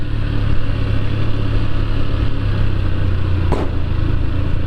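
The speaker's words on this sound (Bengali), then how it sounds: "বাইক নিয়ে হয়তো আমরাই প্রথম ঢুকছি এই রাস্তায়" A motorcycle engine drones steadily and close, riding down a steep, narrow new hill road in Bandarban, with a brief scrape or clack near the end and no talk.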